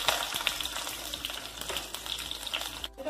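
Sliced green chillies hiss and crackle in hot oil with fried whole spices, a steady close sizzle with small pops throughout.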